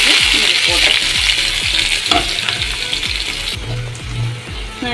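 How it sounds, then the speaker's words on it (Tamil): Chopped onions tossed into hot oil with crackling cumin seeds sizzle loudly and steadily in a pan while cooking Kerala-style chickpea curry, with faint stirring scrapes underneath. "இந்த ஜீரகம் பொரிஞ்சு வரும்போது நம்ம கட் பண்ணி வச்சுருக்கிற வெங்காயம்"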